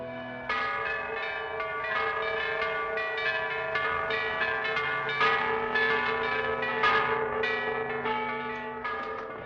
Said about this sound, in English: What are those bells? They toll the hour of marriage.